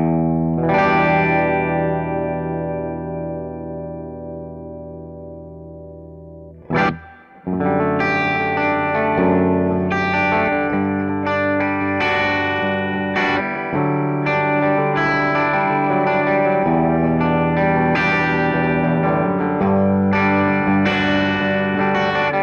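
An electric guitar runs through an Orange Super Crush 100, a 100-watt solid-state head, with the clean channel volume at full and the master turned down for slight breakup. A long held chord fades, then gritty, busy riffing plays loud and close.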